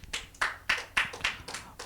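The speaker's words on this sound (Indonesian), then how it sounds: "Tepuk tangan buat Yesus." Church congregation clapping at a Sunday worship service, roughly seven sharp claps in a fairly even rhythm, faint and somewhat distant, with no voices over them.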